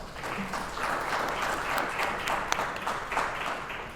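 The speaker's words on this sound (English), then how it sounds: "give yourselves and our guests a round of applause" A large audience at a formal gathering of dignitaries claps steadily in a dense, continuous round of applause that holds evenly throughout with no voices on top.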